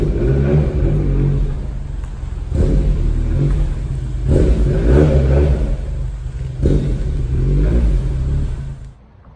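A car engine revs steadily and loudly as the blue ITB Roadster is pulled in, with repeated swelling surges of throttle over a continuous rumble before it cuts down at the end.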